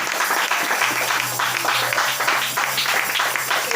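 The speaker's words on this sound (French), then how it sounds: "Acclame si tu as compris." A church congregation claps and cheers in sustained, dense applause that fills the space evenly throughout, with a low hum underneath.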